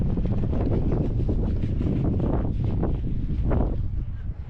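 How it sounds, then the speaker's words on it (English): Strong gusty wind buffets the microphone beside the Great Pyramid of Giza, a loud, continuous low roar with rushing surges and no speech. "Super windy today."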